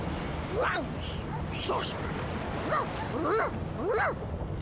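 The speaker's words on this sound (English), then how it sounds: "The dog whines and continues pawing at its nose." A dog in the fantasy video game Divinity Original Sin 2 gives a series of short rising whines and yips, about five in a row, over a steady background hum.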